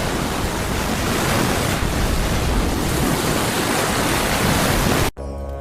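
Sea waves roll continuously as a dense, loud wash of surf noise with no breaks, cutting off abruptly just before the end.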